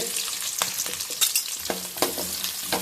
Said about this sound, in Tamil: எண்ணெய் சூடாயிருச்சு இப்போ நம்ம சோம்பு கொட்டிக்கலாம்